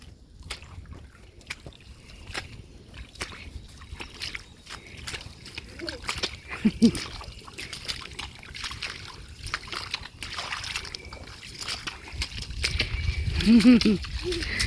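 A child splashing and sloshing in shallow marsh water, with scattered bursts of movement, under intermittent talk from nearby people.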